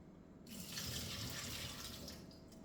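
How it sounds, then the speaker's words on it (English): Rinse water pours off freshly washed asparagus into a sink, a steady close splashing stream that begins abruptly and runs on with light trickling. "I'm gonna pour this water off of here."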